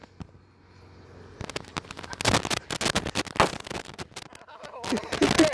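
Diwali firecrackers burst in a quick string of sharp cracks and pops outdoors, one after another, loud and close, with people talking in between.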